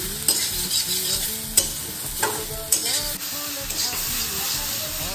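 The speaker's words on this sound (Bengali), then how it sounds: "আর এদিকে সয়াবিনগুলো ভেজে নিচ্ছি।" Soya chunks frying in a pan, a loud continuous hiss and sizzle with repeated stirring scrapes and clicks of a utensil close by, without speech.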